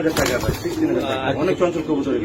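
Pigeons at a farm coo softly throughout, their low murmuring calls partly masked by a voice talking over them.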